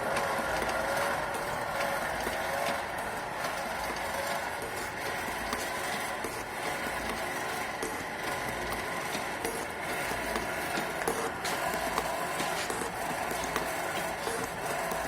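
A shaper machine tool runs its cutting stroke in a workshop, giving a steady, fairly loud mechanical clatter with ratcheting, gear-like ticks that carry on for the whole stretch, with no talking.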